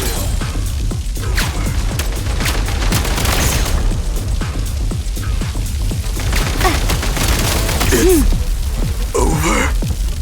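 A frag grenade explodes amid a video game firefight, part of a dense, continuous battle din of rapid gunfire cracks and booms with a few short vocal gasps.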